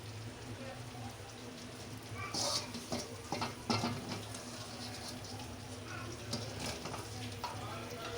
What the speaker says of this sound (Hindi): जी गाइस देखिए हमारी भिंडियाँ तकरीबन फ्राई हो चुकी हैं।